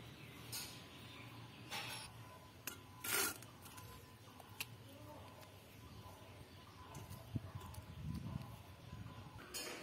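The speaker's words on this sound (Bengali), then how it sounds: "এখন আমি এটা শেল নোড়ায় বাটবো" Boiled pumpkin leaves ground on a flat grinding stone with a hand stone: scattered rasping strokes and scrapes, a few louder rubs, close but fairly quiet, with faint birds in the background.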